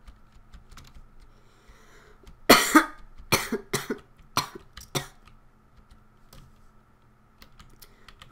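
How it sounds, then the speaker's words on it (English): A person at a computer coughs in a short burst of several sharp, close coughs and throat sounds, set against soft intermittent keyboard typing clicks in a quiet room. "I just had a small little cough moment."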